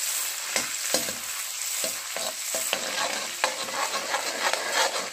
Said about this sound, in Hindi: इसमें हम डालेंगे अपने लहसुन और अदरक का